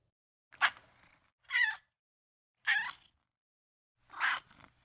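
A cat meows four separate times at spaced intervals, close but fairly quiet, with silence between each call.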